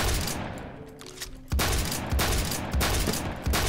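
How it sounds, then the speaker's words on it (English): Repeated loud gunshots in the shooter Phantom Forces, several evenly spaced bursts after a short lull, close and punchy. "How did I miss all those shots?"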